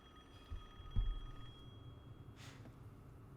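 A telephone rings quietly in the horror video game Resident Evil Village, a faint repeating bell tone over a low background rumble, with no one answering.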